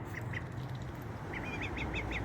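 A young duckling kept as a pet gives a short run of soft, high peeping quacks, closer and more rapid toward the end, over a steady low background hum.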